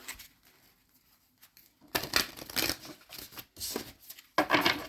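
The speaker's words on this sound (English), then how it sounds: "give these a quick shuffle" A deck of oracle cards is shuffled by hand in a few quick bursts of riffling and sliding, close and fairly loud, with quiet pauses between the bursts and no talking.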